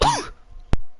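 A single sharp cough rings out after a brief bit of voice, then fades into quiet.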